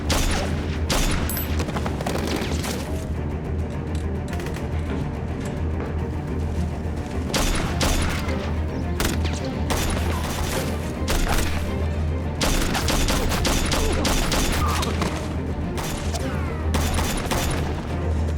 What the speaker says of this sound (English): Return fire!